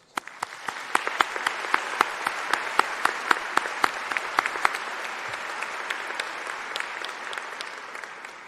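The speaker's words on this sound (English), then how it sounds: "so come with me and please give them a round of applause." Graduation audience at a high school ceremony bursts into steady applause, dense clapping from a large crowd that rises quickly, holds at a strong even level for several seconds, then slowly thins out near the end.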